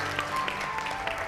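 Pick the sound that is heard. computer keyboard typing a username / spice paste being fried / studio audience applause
studio audience applause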